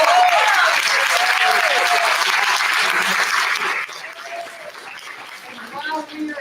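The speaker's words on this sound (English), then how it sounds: "Give yourselves a round of applause." Loud, dense applause from a packed crowd at a community Day of Unity and Prayer event, sustained for several seconds, then dropping to a softer patter with cheers and voices underneath.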